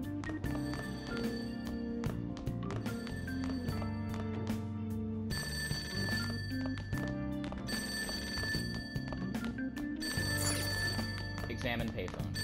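A payphone bell in a video game rings in repeated bursts over background music, with people talking at times beneath it.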